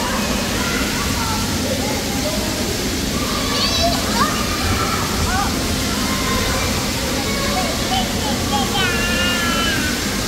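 Water spraying and splashing at a splash pad, a continuous loud hiss with slosh, while children's voices and chatter come through over it.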